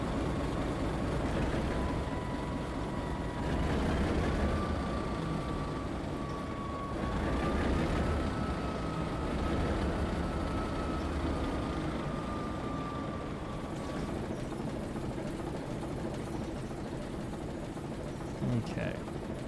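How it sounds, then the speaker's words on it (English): A GE 44-ton diesel-electric switcher locomotive in the Railroader video game drones with a steady engine rumble, and a long horn-like tone rises and holds through the middle. It stays loud and continuous, with someone talking over it. "It's so fun to have all these custom sounds for this locomotive."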